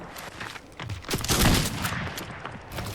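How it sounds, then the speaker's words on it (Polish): Rapid, loud gunfire from a revolver in a competitive ranked video game match, several closely spaced shots swelling to a dense burst in the middle before fading into scattered cracks, with no talking over it. "Rewolwer."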